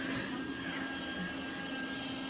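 A steady, droning mechanical whir with a constant hum runs without a break from a small motorized bubble machine running nearby.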